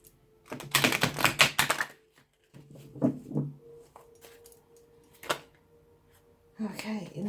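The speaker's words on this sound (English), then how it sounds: "Give them a quick shuffle." Oracle cards are shuffled by hand in quick bursts of riffling and tapping, close and fairly quiet, with short pauses in between.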